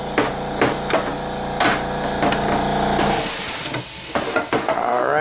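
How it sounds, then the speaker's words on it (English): An air compressor runs with a steady hiss in a shop during a Honda Odyssey transmission teardown while sharp metallic knocks and clicks ring out over it, then it shuts off around midway, leaving a quieter rattle of tool handling. "The compressor just turned off."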